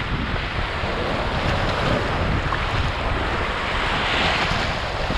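Strong wind roars and buffets the microphone continuously, mixed with a broad rush like surf, loud and steady with no voices, in Prado, Bahia, Brazil.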